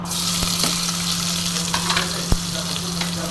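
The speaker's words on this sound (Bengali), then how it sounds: "এবার কিন্তু আমি দিয়ে দেব পেঁয়াজ কুচিগুলো।" Chopped onions fry in a pan over tempered spices, sizzling loudly and evenly up close, with a few sharp utensil clicks scattered through.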